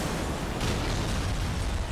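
Car crash explosion in the racing game Burnout 3: Takedown, a loud, dense roaring burst of noise that fills the whole range and holds steady with a slight swell, no talking.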